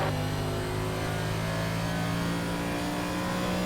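Race car engines in the iRacing sim at Phoenix drone loudly and continuously, a dense steady roar of several cars with no voices.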